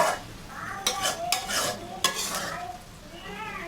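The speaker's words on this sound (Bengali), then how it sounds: "মাঝে মাঝে একটু নাড়াচাড়া করে দিতে হবে, নইলে নিচে পোড়া লেগে যাবে।" Cabbage frying with shrimp in a pan, a spatula stirring in a few distinct scraping bursts over a moderate sizzle, close and without speech.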